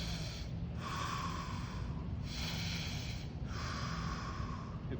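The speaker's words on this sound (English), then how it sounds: "deep breath." Deep breathing during a kneeling unilateral exercise board workout: three long, close, airy breaths, each a slow, steady rush of air with short pauses between, over a constant low background hum.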